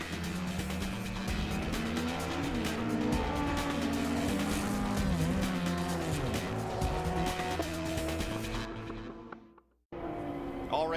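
Sports cars racing through the Corkscrew at Laguna Seca in the 2009 American Le Mans Series Monterey race: loud, sustained engine roar with shifting pitch as cars pass, cutting out briefly near the end before resuming.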